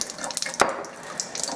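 Acidic water runs from the tap of a water ionizer machine that passes water over electrically charged titanium plates. The stream is a steady close splash with a brief louder gush partway through.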